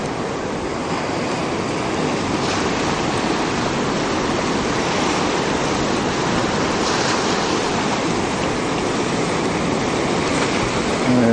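Waves from a passing ship's wake wash past a beach groin in a steady, loud roar of surf that holds constant throughout, with no voices.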